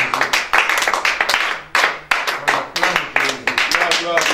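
A church congregation claps together in rhythmic bursts to acclaim Jesus during an intercession prayer service, the sharp, loud hand claps coming in quick repeated waves with brief pauses between them.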